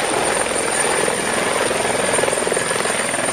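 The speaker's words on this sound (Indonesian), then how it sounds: "kali ini kita menemukan helikopter" A toy police patrol helicopter makes a steady, loud, droning rotor sound with rapid fluttering pulses, heard up close and without interruption.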